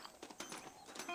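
Quick horse hoofbeats in Red Dead Redemption clip-clop in a rapid, even rhythm for about a second, fairly quiet, with a brief high tone near the end.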